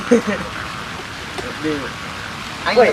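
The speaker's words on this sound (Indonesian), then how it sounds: "hujan" Rain falls outdoors as a soft, steady hiss of drops beneath brief bursts of nearby voices.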